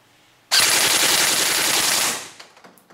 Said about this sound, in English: And then we test the full auto mode to test the rate of fire.